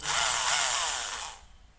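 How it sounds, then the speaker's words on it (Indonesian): An electric drill powered by a 1200 VA pure sine wave inverter whirs loudly and steadily at close range for over a second, then cuts off, leaving near silence. "Apakah kuat untuk bor?"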